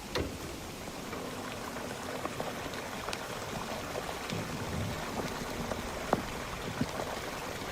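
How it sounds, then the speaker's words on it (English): Water sprayed onto burning coals gives a continuous hissing, bubbling gurgle scattered with sharp crackles and pops, fairly close and without any talking. "we sprayed water on the coals, and we got all this really incredible crackling and gurgling and all sorts of lava type sounds"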